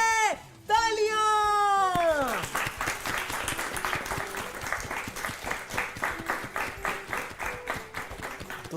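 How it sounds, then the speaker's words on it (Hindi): Applause from a school audience on a children's quiz show, rewarding a correct answer. A short musical jingle rings out first, then steady rhythmic clapping from a group carries on to the end with no talking. "तालियां।"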